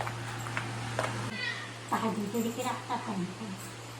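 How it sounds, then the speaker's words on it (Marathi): A cat meows a few times close by, against a steady low hum, with people talking quietly in the background. "ही मम्मीची मांजर."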